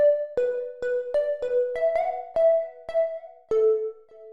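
Tropical house synth pluck lead plays a short melodic phrase of crisp, bright plucked notes, each with a quick attack and brief ringing tail, clear and alone.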